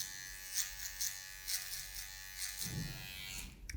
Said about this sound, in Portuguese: Agora eu vou usar a máquina de acabamento